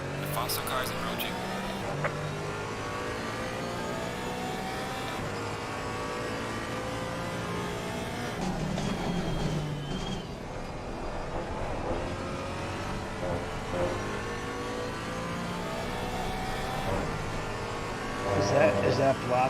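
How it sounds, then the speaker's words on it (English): Race car engines in Assetto Corsa Competizione at Imola, a steady high revving drone with shifting pitch as a faster car closes in, alongside a voice talking throughout. "The faster car is approaching."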